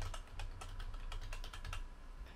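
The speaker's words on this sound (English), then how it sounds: "type in your banned RuneScape email or username and password" Quick bursts of clicking keys on a computer keyboard as a RuneScape username and password are entered, irregular taps close up over a low hum.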